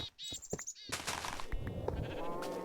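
Sheep in the Minecraft Tekkit modpack bleat several times in short, clipped calls near the start, followed by a steady wash of in-game ambient noise and clatter that persists to the end.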